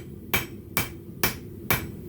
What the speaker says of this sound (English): This is just an ordinary club hammer from the hardware store